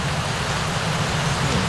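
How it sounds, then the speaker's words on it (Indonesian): Heavy rain pours down continuously during fishing, a dense, loud, even hiss of drops with no pauses, steady from start to finish. "Pengen tahu aja mancing hujan deras kayak gini nih kan makan nggak?"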